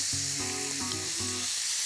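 Beef and carrot stir-fry in a large pan, a continuous loud hiss of sizzling oil with brief low tonal hum from the kitchen underneath.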